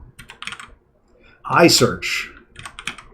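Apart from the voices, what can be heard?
typing on a computer keyboard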